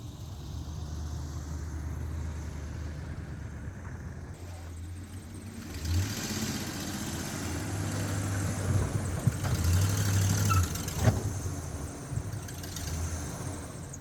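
A Dodge Power Wagon with a 5.7-liter Hemi idles and rumbles quietly at a distance as it is driven onto a trailer, with a few soft throttle swells and clunks.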